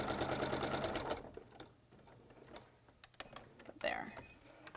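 A sewing machine stitches binding onto a quilt in a fast rhythmic whir for about a second, then stops, leaving scattered clicks and handling noises with brief talk.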